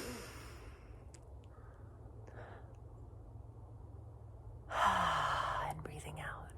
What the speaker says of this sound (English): and breathing in.